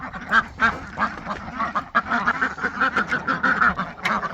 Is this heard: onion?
no